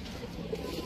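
A pigeon coos briefly at close range, a soft low murmur set among other background noise.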